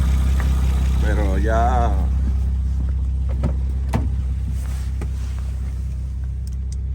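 A Honda Odyssey engine idles with a loud, steady low rumble from a hole in its muffler pipe, heard up close and continuous, while someone talks briefly over it.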